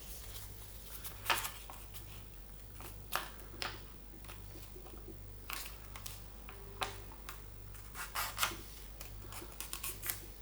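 Paper being folded for an origami penguin gives soft, close crinkles and sharp creasing taps at irregular intervals over a faint steady electrical hum.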